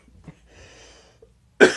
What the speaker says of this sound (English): still kind of a coughing fit